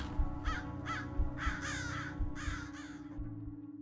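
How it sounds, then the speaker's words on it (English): Several crows caw in a series of harsh, ringing calls, four or five distinct bursts close together, over a steady low background hum. "The mob were watching the crows fly overhead."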